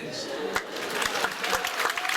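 Applause from a student audience at a school writers' week panel fills the room as a dense wash of clapping, with a few sharper claps standing out and voices mixed in.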